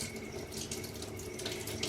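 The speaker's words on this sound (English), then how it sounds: "this is the faucet that Doug rigged up" A gravity-fed kitchen faucet, supplied by collected rainwater in an off-grid log cabin, runs steadily, a continuous splashing hiss of water into the sink with no voices.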